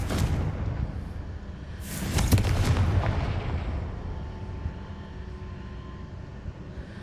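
A Confringo explosive spell is cast in the Hogwarts Legacy video game, heard as a sudden blast with crackling burst over a low rumbling game ambience, fading into a steady background hum.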